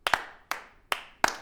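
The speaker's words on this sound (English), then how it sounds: "An audible shrug of the shoulders? A slow clap?" Four slow, evenly spaced hand claps, sharp and close, with short gaps of silence between them, a deliberately unenthusiastic slow clap.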